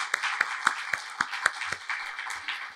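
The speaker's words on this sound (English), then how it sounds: "could we give a big round of applause to the Island Nature Trust for the amazing hard work they've done to put this evening together?" An audience at an Island Nature Trust biodiversity event in PEI claps in quiet, evenly spaced beats that sound thin and sparse over a few seconds.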